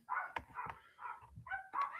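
Puppies bark and yip outdoors in a rapid string of short, high bursts, fairly close and moderately loud, with brief pauses between calls and no talking over them.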